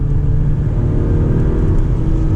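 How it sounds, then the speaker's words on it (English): Acura RDX A-Spec with a 4-cylinder turbo engine accelerating on a mountain road, a steady loud low rumble and whir heard from inside the cabin, continuous and even throughout. "the 4-cylinder turbo sounds a little coarse to me"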